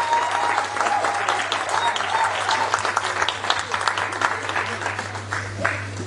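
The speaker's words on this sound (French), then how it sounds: "On l'applaudit encore très fort" An audience in a hall applauds the president at an International Women's Day event, with continuous lively clapping for about six seconds and a steady low hum underneath.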